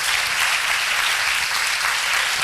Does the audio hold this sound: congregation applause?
yes